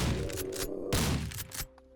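Shotgun blasts in the survival game Seclusion, about three heavy booming shots in quick succession, each with a brief rumbling tail, fairly close, then a quieter pause.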